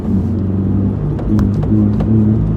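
A Scion FR-S / Toyota GT86 on the highway with a sprint booster fitted, its engine giving a loud, steady low rumble and road drone from inside the car, with no talk.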